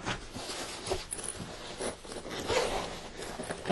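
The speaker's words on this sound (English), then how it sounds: "Got a two way zipper." A two-way zipper being opened on the soft carrying case of a Celestron 52228 50mm refractor zoom spotting scope, a quiet close-up run of scratchy zipping strokes with no voices.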